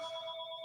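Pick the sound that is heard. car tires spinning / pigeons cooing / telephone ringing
telephone ringing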